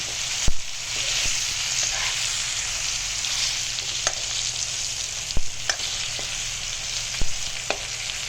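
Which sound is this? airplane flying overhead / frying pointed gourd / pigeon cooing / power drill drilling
frying pointed gourd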